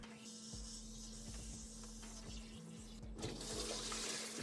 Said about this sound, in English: my only option was just to pump out the water from the main connection